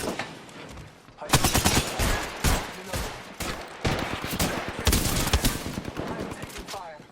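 Automatic gunfire in Apex Legends crackles in rapid, dense bursts that swell and fade across the fight, loud and close, with a brief voice heard alongside it.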